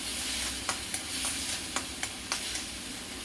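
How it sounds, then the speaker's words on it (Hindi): Masala for paneer bhurji roasting in a pan on a medium flame, with a steady bright sizzle and a spatula tapping against the pan in regular clicks, close by and with no talking. "मैं मीडियम फ्लेम पर भून रही हूँ"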